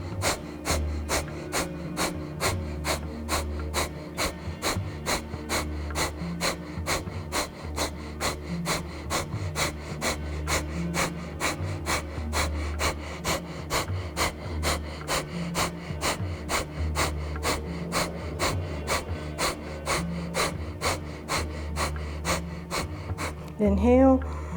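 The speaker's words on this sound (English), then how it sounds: "and breath of fire in this position." Rapid Kundalini yoga breath of fire: sharp, evenly spaced nasal exhalations pumping at a fast steady rhythm, close and loud, continuing for the whole stretch before a brief pause at the end.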